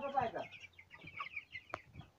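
About three-week-old young chickens on a farmyard cluck and cheep in short, irregular bursts, close and fairly quiet, with a brief sharp knock near the end.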